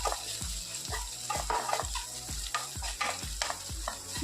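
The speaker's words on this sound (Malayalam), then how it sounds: "അപ്പോൾ ആ ഉള്ളിയും നമ്മുടെ പച്ചമുളകും എല്ലാം കൂടെ ഒന്ന് മൂപ്പിച്ച് എടുക്കാം." Onion and green chillies fry in a hot pan, a steady sizzle broken by regular scraping stirs about twice a second, close and clear with no voices.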